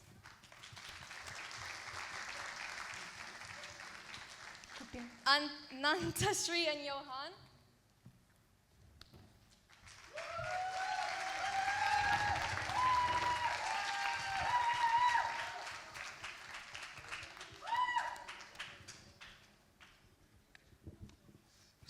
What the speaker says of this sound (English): Let's bring everyone back out for another round of applause.